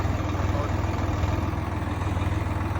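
A motor runs on a paddy farm during rice-planting work, giving a steady, loud low hum with an even throbbing pulse that holds unchanged throughout.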